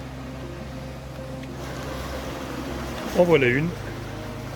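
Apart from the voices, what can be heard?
water flowing over small waterfalls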